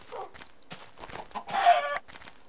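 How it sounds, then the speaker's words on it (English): Clucking of a chicken in the video game Minecraft, a few short squawky bursts rising to a louder cluster near the end, close and clear with no talk. "The chicken's annoying me, too."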